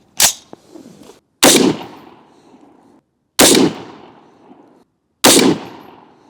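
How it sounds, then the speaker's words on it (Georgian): Rifle fire from a Sechkin Arms MS 18 chambered in 5.56 on an outdoor range: four sharp, loud reports spaced a second or two apart, each followed by a ringing, fading echo tail. "გავაკეთოთ 3 გასროლა და 3 გასროლა გვეტყვის რისი მაქნისია"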